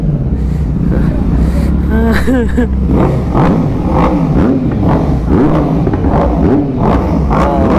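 A vintage two-stroke motorcycle engine revs at a bike event, a loud, close, rasping roar that rises and falls in repeated bursts, with voices talking over it.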